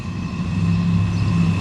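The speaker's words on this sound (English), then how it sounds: "I'm not sure what the symbol for this coal train is" A southbound CSX coal train rumbles past at a steady, moderate level in Marion, Ohio, giving a continuous low-pitched roll with faint tonal whine and no voices.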